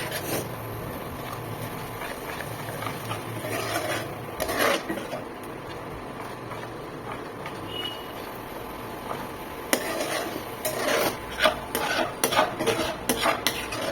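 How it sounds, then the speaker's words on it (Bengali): Spice paste for a paneer dish is stirred and sautéed in a worn, battered kadai, with irregular scraping and clinking of the spoon against the pan over a low sizzle, close up and without speech. "তো এই মশলাটা একটু ভালো করে কষে রাখ, তারপরে পনিরটা দিয়ে দেবো।"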